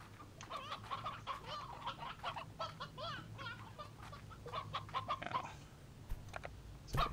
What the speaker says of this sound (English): Stick the stony hens all in one corner.